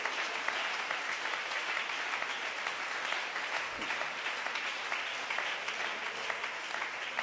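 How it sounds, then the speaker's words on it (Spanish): Sustained audience applause fills a church or religious gathering, a dense, steady wash of many hands clapping at even loudness throughout, with no voices rising above it. "dele el aplauso al que vive"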